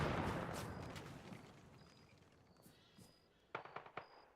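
Gunfire in Arma 3, a fading rumble of distant shots followed by a quick cluster of sharp cracks near the end, loud and fairly close.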